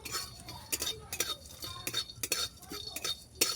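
Cloves and cardamom dry roasting in a pan, with irregular scraping and clinking of a spatula or spoon against the metal, close and moderately loud, with no voice.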